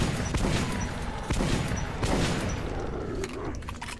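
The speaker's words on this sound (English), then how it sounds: "I love the way this gun reloads." A firearm in Metro 2033 fires and reloads amid loud, dense game noise, with heavy thumps and mechanical clatter over a constant roar, and metallic clicks near the end.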